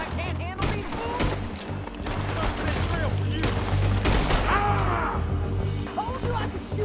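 Gunfire in Red Dead Redemption 2, scattered shots and cracks in quick succession amid a busy fight, with voices talking and shouting over the shooting.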